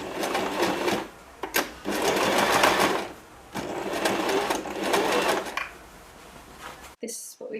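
A sewing machine stitches dress sleeves for a vintage 1950s style pencil dress, loud rapid mechanical whirring in several bursts separated by short pauses, close up, ending abruptly.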